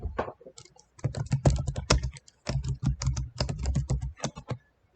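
Fingers type on a computer keyboard in quick, uneven bursts of close clicks, pausing briefly before rattling on again.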